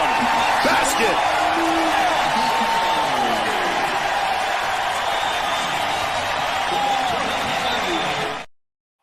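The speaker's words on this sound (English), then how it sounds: "Just the roar of the crowd and the visual of the crowd" A college football crowd roars loudly and continuously from a replayed touchdown clip, with broadband cheering, whoops and a sharp slam near the start, and a commentator's voice over the din before it cuts off abruptly.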